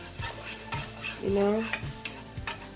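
A spoon stirs vegetables in a frying pan still greasy from cooked bacon. Rhythmic, close scraping strokes run over a constant sizzle, with one longer swirling push midway.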